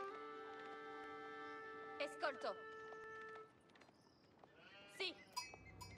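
Sheep bleating in the strategy game Age of Empires IV, a few short bleats between about two and five seconds over steady game music and ambience.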